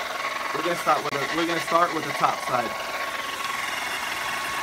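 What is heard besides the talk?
hair dryer blowing hot air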